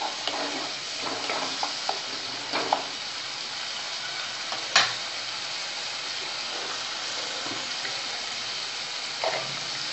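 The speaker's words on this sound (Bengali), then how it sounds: "গরম মশলা দিলাম, মশলাটাকে ভালোভাবে কষাতে হবে মশলার সাথে।" A garam masala spice paste for raw banana kofta curry sizzles steadily in a pan, broken by scattered scraping stir strokes and a few sharper clanks, with no voices.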